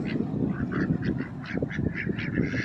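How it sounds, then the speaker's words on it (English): Ducks on a pond quack and honk repeatedly in a busy, overlapping chorus, fairly close, with low background rumble beneath the calls. "There's the ducks."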